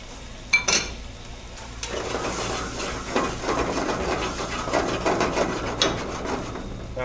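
Octopus cooks down in a pan with its natural gelatin, giving a steady close sizzle and bubbling throughout, broken by a couple of sharp metallic clanks near the start and once more later.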